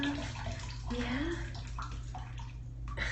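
Bathwater runs steadily and close while a dog is washed, a continuous gushing hiss with a person's voice talking briefly over it.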